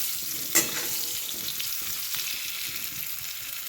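Potatoes fry in a kadai with salt and turmeric for aloo dum, giving a soft, steady close sizzle with a single sharp metallic clink near the start and no voices.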